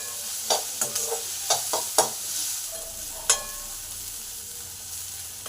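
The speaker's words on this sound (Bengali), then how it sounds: "পেঁয়াজ 2টো ভেজে নেবো।" Onions fry in a pan with a soft, steady sizzle. A spatula scrapes and clacks against the metal in several sharp, close knocks throughout.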